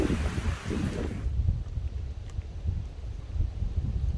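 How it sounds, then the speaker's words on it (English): Strong gusting wind buffets the microphone outdoors on a kayaking trip, a loud continuous low roar with a brief brighter rush at the start and no voices. "My God, this wind is crazy."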